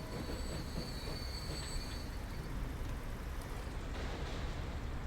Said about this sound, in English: Here comes a passenger train with only 6 people on board